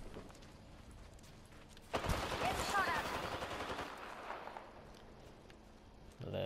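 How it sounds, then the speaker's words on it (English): Gunfire crackles in Apex Legends, a few seconds of rapid shots, moderately loud, rising out of quieter game ambience, with a voice speaking faintly at times. "Shots fired and they're hitting me."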